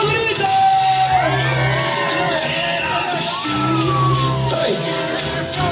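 Women at a lively Andean hora loca party in Ayacucho shout and whoop together, a loud sustained crowd of rising and falling yells filling the room.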